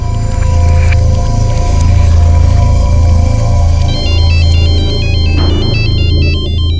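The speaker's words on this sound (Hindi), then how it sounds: "अरे तो मेरे मोबाइल से फोन आ रहा है" A loud electronic mobile ringtone plays continuously over a steady low hum, its melodic beeping pattern shifting partway through.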